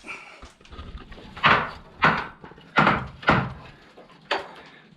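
Old wooden barn grain chute doors are lifted and let fall, giving about six loud, irregularly spaced wooden knocks and clunks up close with creaking between them and no speech.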